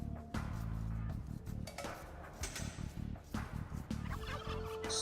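Turkeys in a video game gobble in a rapid, rattling burst near the start, followed by clinking, clattering game sounds and further busy chatter-like noise throughout.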